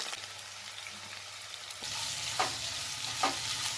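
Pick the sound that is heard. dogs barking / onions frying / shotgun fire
onions frying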